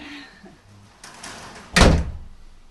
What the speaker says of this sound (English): So we're gonna test the door now. See how well it shuts.